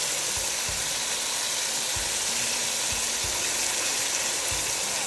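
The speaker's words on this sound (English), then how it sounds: "there is my curry and it is bubbling" Lamb curry bubbles and sizzles in a pot, a steady close hiss with soft irregular low pops from bursting bubbles throughout.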